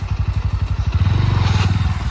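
A motorcycle engine sputters to life nearby on a trip to a waterfall and settles into a loud, steady chugging idle.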